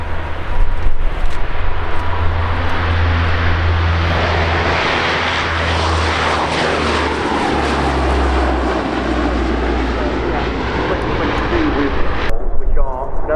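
A propeller-driven airframe flies a display at the Royal International Air Tattoo 2022 airshow, its engine droning loud and steady overhead for the whole stretch, swelling and receding as it passes, then cutting off abruptly.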